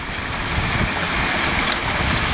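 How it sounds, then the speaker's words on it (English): A garden pond waterfall fed by a 1 horsepower swimming pool pump, tumbling over weathered limestone rocks, gives a steady, close rush of falling and splashing water that stays at an even level the whole time. "The pump driving this waterfall is a swimming pool pump, and it's a 1 horsepower pump."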